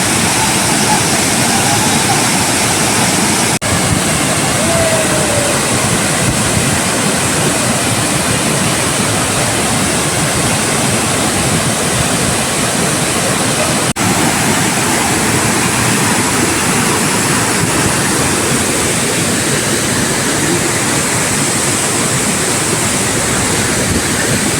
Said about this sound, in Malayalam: ഹരിതീർത്ഥക്കര വെള്ളച്ചാട്ടം.